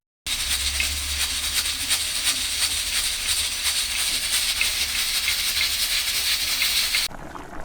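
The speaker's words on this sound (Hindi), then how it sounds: "बस इसे सीटी लगाते हैं।" Steam hisses loudly and steadily from a pressure cooker whistle while beef karahi cooks, a continuous bright rushing jet running for about seven seconds before cutting off abruptly.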